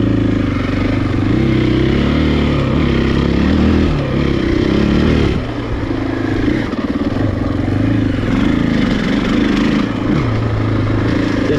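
A 2020 Husqvarna FE501S dirt bike ridden off-road, its engine droning loud and close throughout with rising and falling revs and a brief dip partway through.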